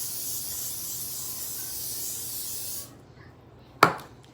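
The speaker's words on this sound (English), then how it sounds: "just kind of spray them lightly with Pam because you don't want your biscuits sticking" Pam cooking spray hissing steadily onto cast iron skillets for a few seconds, then stopping, followed by a sharp clank of the pan.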